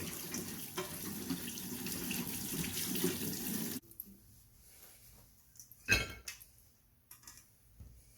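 Tap water runs steadily into a kitchen sink while sea purslane is washed, then stops, leaving quiet handling sounds and a brief clatter of dishes.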